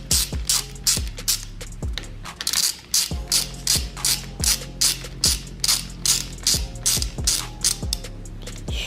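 Ratchet wrench tightening the aluminum lever bolt on a Suzuki DRZ motorcycle, a long run of rapid, close, loud pawl clicks in repeated bursts with short pauses between strokes.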